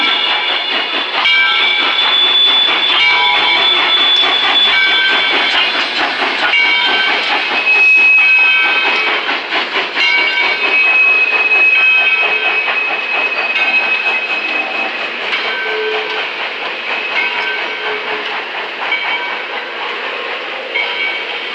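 Locomotive 630 hauling the Missionary Ridge Local as it climbs the wye at Grand Junction, a steady, loud rail rumble with hissing and clanking wagon noise, plus a few brief whistle-like tones, continuous throughout with no talk.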